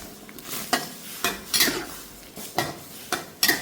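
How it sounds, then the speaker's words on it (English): Shrimp being stirred and flipped in a pan for tom yum goong, with several sharp metallic scrapes and clanks of utensil against pan at an uneven rhythm, close and fairly loud, with no talking. "So when you have shrimp, you have to stir like this. Flip the shrimp."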